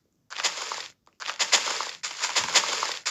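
Dynamite (TNT) blowing up in the video game Minecraft: three loud, crackling explosions in quick succession, each a dense burst lasting under a second, with short gaps between and no talking.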